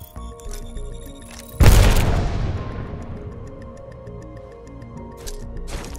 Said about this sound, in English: Throw an arc star.